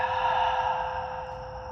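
A single slow, soft exhale during a guided breathing meditation, drawn out and fading near the end, breathy and close with no talk.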